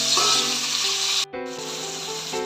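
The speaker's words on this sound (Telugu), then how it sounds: "ఆనియన్స్ అవి ఫ్రై అవుతున్నాయండి." Onion and tomato pieces frying in a pan for home-style chicken biryani, giving a steady, loud, close sizzle that drops out for a moment and then carries on.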